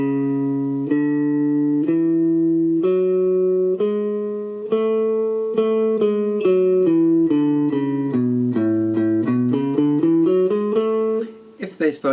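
Guitar scale played slowly, one clean, clear note after another in a steady stepping rhythm, each note ringing distinctly and close.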